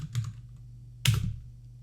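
Keystrokes on a computer keyboard while a pip install command is entered for Python, two short bursts of clicks about a second apart, close and fairly quiet with no talking.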